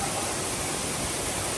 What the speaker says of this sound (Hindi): और झरने से ऐसा लग रहा हो जैसे दूध बह रहा हो, बिल्कुल सफ़ेद रंग का।